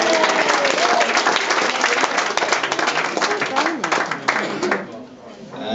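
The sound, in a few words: audience applause at a wedding speech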